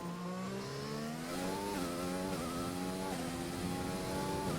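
Race car engines in an F1 esports game at Bahrain, several cars droning and rising in pitch through upshifts, a steady close engine whine with no talk over it.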